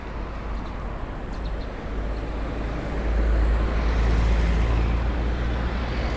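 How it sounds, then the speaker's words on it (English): Busy street traffic in Thailand beside market stalls and crowds, a continuous low rumble of engines that swells louder about halfway through as a heavier vehicle passes close by. "There is traffic noise around me, and there are quite a few people and busy market stalls as well."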